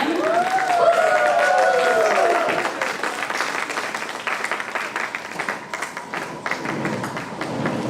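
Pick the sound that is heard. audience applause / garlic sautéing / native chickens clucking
audience applause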